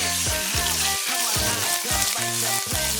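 Pork, 400 grams with a little bone, sautéed in a pot over onions for pork sotanghon soup, giving a steady loud hiss and sizzle throughout, with a tonal, melodic sound running over it.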